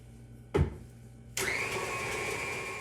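An electric mixer creaming butter, sugar and vanilla in a bowl: a sharp click, then the motor starts up and whirs at a steady, moderate level.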